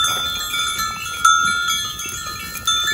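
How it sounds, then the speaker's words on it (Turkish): Old Ottoman-era bells on a goat herd jingle and clank continuously in a steady ringing mix, with a few louder strikes standing out, the animals grazing nearby. "Çok eski çanlar, Osmanlı'dan kalma çanlar diyor."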